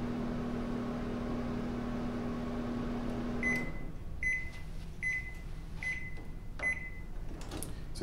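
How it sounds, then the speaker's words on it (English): A microwave oven hums steadily for a few seconds, then stops and sounds a series of five evenly spaced beeps. "Toss this in the microwave for another 2 minutes, okay?"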